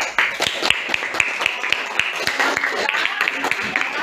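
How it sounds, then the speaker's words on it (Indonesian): A classroom of students applauds after top scores are announced, steady rapid hand claps from many people filling the room for about four seconds with no talking over them. "kita berikan tepuk tangan dulu"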